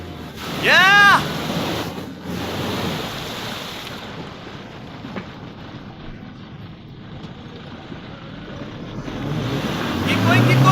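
A Toyota Fortuner 4x4 drives through water with a continuous rushing, splashing wash and wind buffeting that swells toward the end. Voices shout and whoop over it.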